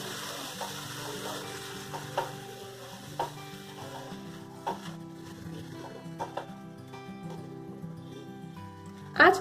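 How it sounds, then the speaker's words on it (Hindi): Raw mango paste stirred and roasted in a pan over medium heat for sweet-sour mango candy: a soft, steady sizzle with scattered light spoon scrapes and knocks, ending in a louder clatter. "इसे हम 3-4 मिनट तक चलाते हुए भून लेते हैं।"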